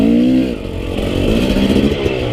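A Husqvarna TE250i dirt bike ridden through the desert on a January day, its engine note dipping briefly and then climbing again in a steady, buzzing rev, loud and close throughout.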